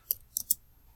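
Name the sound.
computer mouse clicks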